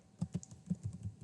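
Quick, soft keystrokes on a computer keyboard while typing JavaScript code, about ten close clicks in an irregular rhythm with no talking.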